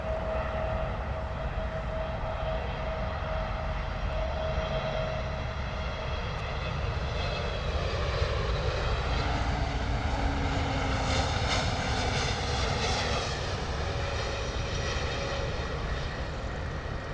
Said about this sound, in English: Beautiful arrival. Vapor on the flaps all the way down to touchdown.